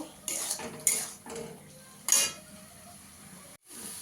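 Fried potatoes are stirred into a spice masala in a pan, giving a few distinct metal spoon scrapes and clanks against the pan over a faint low sizzle, with short quiet gaps between strokes.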